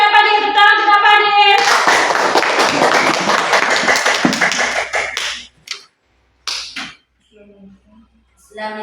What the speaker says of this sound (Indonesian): silakan Nak Padi, tepuk tangan untuk Nak Padi.